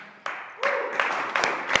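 Audience applause for a volunteer walking up at a speaking event, a short burst of scattered hand claps from a modest crowd, starting sharply and carrying on at moderate level.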